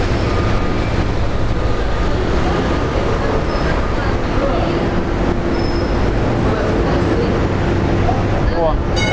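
A monorail train in downtown Miami rumbles past on its elevated rail, a loud continuous rolling drone with steady low-end roar and a faint rising squeal near the end.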